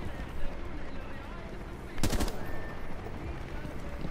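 A short, loud burst of automatic gunfire in Rainbow Six Siege, a single rapid volley standing out over low game ambience and faint voices.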